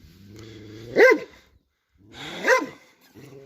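A dog barks twice, loud and close, with a pause between the two barks and quiet background around them, among feral horses in snow in Turkey.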